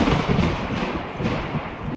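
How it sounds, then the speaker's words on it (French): A long continuous rumble of thunder from a horizontal, zigzagging lightning bolt, rolling steadily and loudly for about two seconds before cutting off abruptly. "Un long grondement continu."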